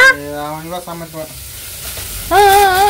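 Tomato and onion masala fries on a low flame in a steady, soft sizzle. Voices rise over it at the start and again at the end, with quieter frying in between.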